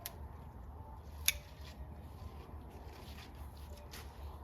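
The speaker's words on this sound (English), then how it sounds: "If I'm seeing any leaves that look particularly yucky, I'm going to cut them." Scissors snip tomato plant leaves during garden pruning, one clear crisp cut standing out among faint quieter snips in a hushed outdoor setting.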